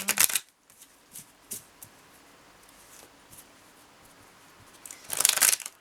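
An oracle card deck is shuffled up close in brisk papery riffles, with a burst at the start, light handling in between and a louder flurry at the end. No one speaks.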